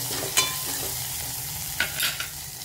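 A tempering sizzles steadily in a pan while a spoon scrapes and taps a few times as it is stirred, close and fairly quiet with no voices.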